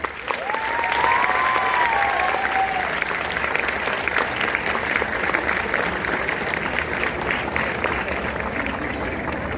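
A hall full of people at a homoeopathic summit in Vadodara claps steadily, a loud, continuous wash of applause with some faint voices and a brief tonal sound early on, holding even to the end.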